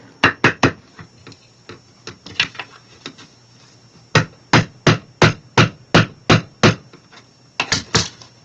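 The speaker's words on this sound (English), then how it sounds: "Let me use my little hammer here." A small hammer taps on a birdhouse-themed Valentine wreath in quick, sharp bursts of two to four knocks separated by short pauses. The tapping is close and clear, with no talking.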